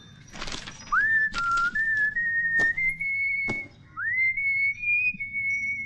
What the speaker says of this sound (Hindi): बस उसी को रिहर्स करने के लिए मैं सीटी बजाता हूँ।